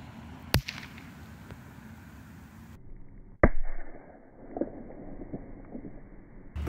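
Two party poppers go off with sharp, loud cracks, one early and one a few seconds later, each followed by rustling and faint background noise.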